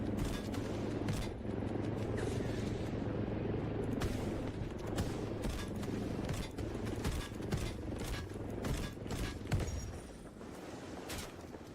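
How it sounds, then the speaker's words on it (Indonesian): Anti-aircraft vehicle cannon in the shooter game Delta Force fires in dense, steady bursts under a constant low engine drone, with no voices heard. "Tembakan kendaraan anti-udara cukup akurat"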